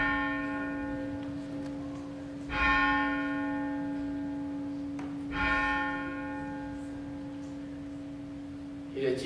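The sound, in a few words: church bell from 1885 ringing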